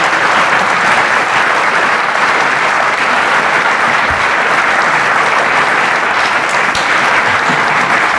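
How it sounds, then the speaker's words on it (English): An audience at a conference round table applauds a gentleman, loud sustained clapping from many hands at a steady level throughout, with a faint murmur of crowd underneath. "give the gentleman a round of applause, everybody"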